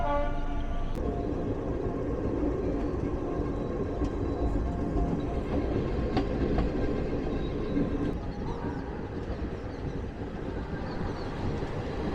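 The Kumbh special train 03021 pulls away from a halt, giving a steady, loud rumble of rolling carriages and a continuous mechanical drone throughout, heard from close by on board.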